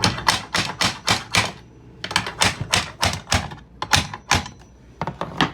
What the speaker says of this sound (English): all we got to do is tap it down a hair with our tapping block here